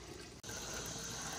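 Water runs steadily from a tap or spout at a campsite, a continuous close splashing rush that is briefly interrupted and then resumes at an even level, with no talking.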